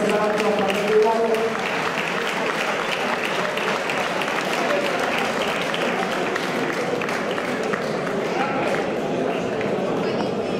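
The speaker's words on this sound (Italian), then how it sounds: "un applauso a tutti e due gli atleti" At a White Rex fight event, an audience applauds the two athletes with steady, sustained clapping from a crowd at a moderate distance.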